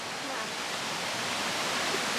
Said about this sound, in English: This is the water that feeds the Dunn's River Falls